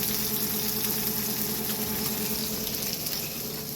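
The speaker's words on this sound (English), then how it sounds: "when you get your steak on, you're going to want the steak to sizzle." Steak searing in hot oil in a pan, giving a steady, even sizzle like rushing water that holds at a moderate level throughout with no talk.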